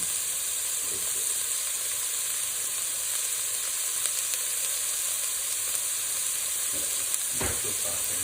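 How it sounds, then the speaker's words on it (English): Onions cooking in a pan for lasagna, a steady, even sizzle heard close up for several seconds, with a couple of soft knocks of a utensil and no speech. "Cook onions until they're translucent."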